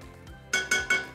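A spoon taps against a small sauce pot three times in a quick row while butter is added, bright metallic clinks close by in a quiet kitchen.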